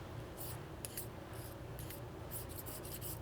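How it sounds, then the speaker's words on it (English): A blade is stroked repeatedly on an extra fine diamond hone, giving light scratchy rasps in an uneven rhythm, soft and close with no talk. "I can hone these down and get them back to perfect sharpness pretty easily"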